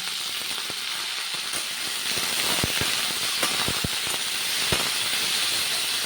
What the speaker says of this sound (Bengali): হলুদটা দিয়ে কিন্তু শিমটা হালকা করে ভেজে নিয়েছি